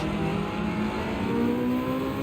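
Race car engine, apparently a BMW, revving steadily in a Gran Turismo 7 online daily race, a continuous loud drone with shifting pitch and other cars close around.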